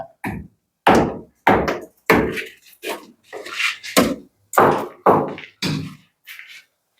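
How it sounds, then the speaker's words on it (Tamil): Knuckle or tool taps strike a damaged, spalling concrete ceiling in an old house, producing about ten dull thuds in an uneven rhythm, close by and moderately loud. "நார்மலாக தட்டுறேன் நம்மளும் வேகமாக கூட தட்டல"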